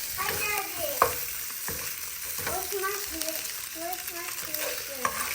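Rice fries in a pan with a constant close sizzle while a utensil stirs and scrapes it in repeated strokes, with occasional sharp knocks against the pan.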